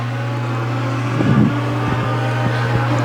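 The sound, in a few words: Legends race car engine on track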